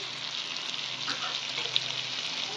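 Chela fish curry with spices and salt simmers and sizzles softly in a pan, a faint steady hiss with light stirring scrapes and an occasional small pop.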